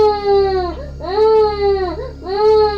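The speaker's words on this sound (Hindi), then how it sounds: "अचानक से मेरे नाना को किसी बच्चे की रोने की आवाज़ सुनाई दी।" A child cries in a Hindi horror cartoon about a witch, heard up close and loud in long wailing sobs with brief breaths between them.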